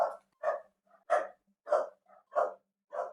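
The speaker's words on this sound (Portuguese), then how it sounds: "se vazar algum cachorro latindo aí, eu peço desculpa" Neighbourhood dogs bark in a steady series of about six sharp woofs at a moderate distance, with softer breathy sounds between them and no talking.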